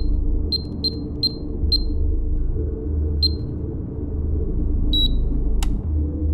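Keypad buttons beeping as numbers are dialed on a door entry pad, a series of short, clear electronic beeps in an uneven rhythm over a steady low rumble, with no talking.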